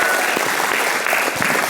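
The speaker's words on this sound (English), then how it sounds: "Can we get a round of applause?" An audience claps at a talk on buying a first home, dense steady applause that fills the room at a constant level without a break.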